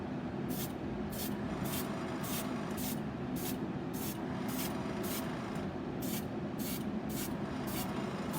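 White paint spattered onto a cup in repeated spray bursts, about fifteen short hissing pulses in a steady rhythm over a constant low background rumble, close and fairly loud.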